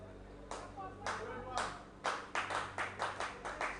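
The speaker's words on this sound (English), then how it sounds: "you could see his side clapping for him" A cricket team claps from the field during a Super Six Division One match, Ibeju Lekki CC against GCI CC, with a run of quick, distant handclaps that grows denser and more rhythmic toward the end.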